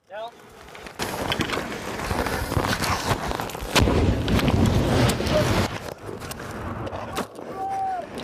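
A frag grenade thrown in a training exercise, followed by a loud, rumbling blast and several seconds of roaring noise close by, with people shouting over the sound.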